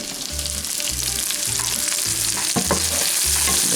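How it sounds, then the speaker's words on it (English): Okra fries in a pan while being stirred, a loud, close, steady sizzle with rhythmic scraping strokes and a sharper clack near the end. "Just keep this okra kind of stirred up."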